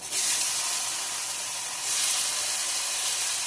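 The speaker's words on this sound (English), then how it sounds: "we're going to fry our peppers. Our skillet is hot" Peppers fry in a hot skillet with a loud, steady sizzling hiss that swells again partway through, close and continuous with no talking.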